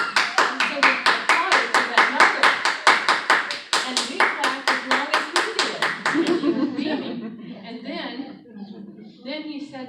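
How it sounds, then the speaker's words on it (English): An audience of parents at a Suzuki music conference claps in a fast, loud, even rhythm of sharp synchronized claps for about six seconds, then breaks into laughter and scattered chatter. "He said he wanted thunderous applause. And so we applauded so"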